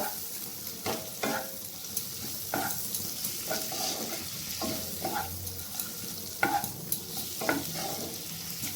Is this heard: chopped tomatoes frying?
yes